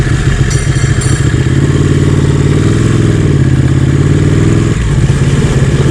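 Ducati Panigale sport motorcycle under way, its engine a loud, continuous close rumble with shifting pitch as it revs, wind noise on top, no talk.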